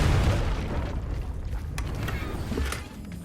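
A Confringo blasting spell explodes in the Hogwarts Legacy video game, giving a loud, low, rumbling boom that sustains across the whole stretch and then tails off slightly near the end.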